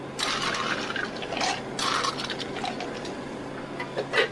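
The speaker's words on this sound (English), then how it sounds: "So now we're just going to add ice to fill the cup." Ice poured into a cup for a berry lemonade drink, a loose rattling clatter in several short rushes over a few seconds, close and fairly clear, without talk.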